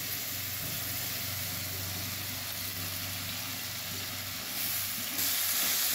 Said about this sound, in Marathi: लाल तिखट मसाला 1 चमचा, मिक्स करून भाजूया चांगला मसाला